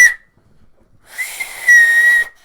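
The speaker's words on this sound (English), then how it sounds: "have a whistle and do the 3 whistles for football when a football match ends" A person attempts the three whistle blasts that end a football match, giving a short shrill blast, a breathy gap, then a long loud sustained whistle, close and alone.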